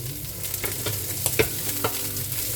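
Onion and frozen garlic frying in a pan give a steady close sizzle, broken by a few light scrapes and taps of a stirring spoon, with no voices.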